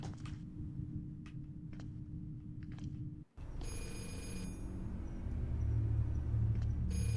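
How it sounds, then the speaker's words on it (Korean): A telephone rings in a horror game about a cursed digital camera, a bright tonal ring over low rumbling ambience, with a short break before it grows louder and more sustained. "전화 소리?"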